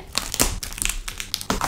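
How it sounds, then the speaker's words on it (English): Packaging on a limited-edition book box set crinkles and crackles as it is opened, a quick run of sharp, close plastic-wrap rustles with no talking. "So, let's open this box."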